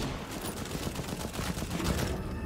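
Rapid bursts of sustained gunfire aimed at a giant dinosaur in the video game Second Extinction, loud and dense throughout with a constant rumbling low end.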